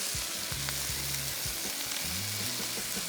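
Flour frying in a pan gives a steady, loud sizzle that carries on unbroken as milk is poured in, with faint stirring scrapes and bumps underneath.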